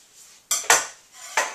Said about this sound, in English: I'll just use a spoon to scrape the flesh out.